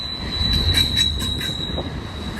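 A BNSF intermodal freight train rolls past at Cajon Pass, its wheels squealing steadily over a low rumble with faint clicks from the railcars, loud and close throughout.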